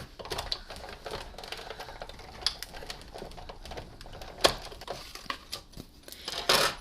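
A die cutting machine cranking a card through, heard as dense clicking, ratcheting texture with scattered sharp taps, fairly close and moderately quiet, without talk.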